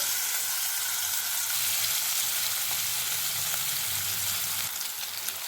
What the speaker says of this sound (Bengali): এখন আমি মাছগুলোকে এপিট ওপিট হালকা করে ভেজে নেব